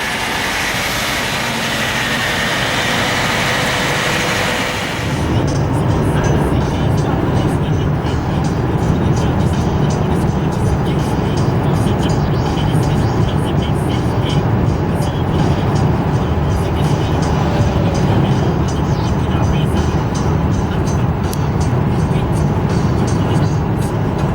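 A 2018 Mercedes-Benz C180 with a 1.6 petrol engine drives at night, giving a loud, continuous broadband road and engine rumble inside the cabin that steadies after a brief shift in tone early on.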